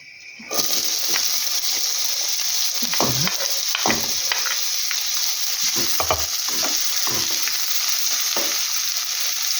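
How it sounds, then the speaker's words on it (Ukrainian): Onion frying in a small amount of oil in a hot pan, with steady close sizzling throughout and occasional stirring scrapes and clinks. "Сковорідка нагрілася, і я буду зараз робити засмажку."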